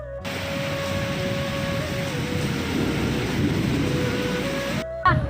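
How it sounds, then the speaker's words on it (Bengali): Steady rain pours down in the seaside town of Digha, an unbroken close hiss with a faint low hum beneath it and a brief cut near the end. "বৃষ্টিটা হওয়ার দরকারই ছিল"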